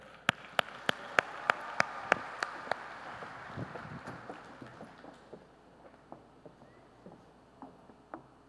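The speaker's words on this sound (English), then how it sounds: "Please help me in giving a huge round of applause to Jessie Kibbe" Applause from a school event audience, starting with sharp, evenly spaced claps and settling into softer scattered clapping that thins out, fairly quiet and with no voices.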